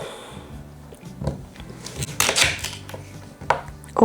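A knife chops a sweet potato on a kitchen board with a few sharp, irregular cuts and clacks, close and moderately loud, with faint kitchen clatter around them.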